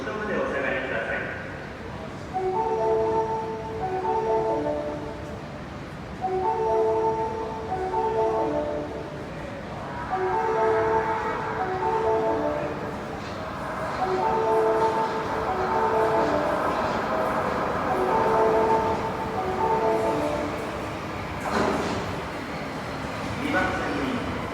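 An Osaka Metro train, on the Midosuji or Tanigawa line, pulls into a station platform with a steady rumble that runs throughout, while a repeating chime melody and station announcements sound over it.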